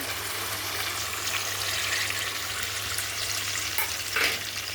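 Tomato puree fries in a pan for a paneer dish, giving a dense, steady close sizzle with a few soft scrapes and taps of stirring near the end.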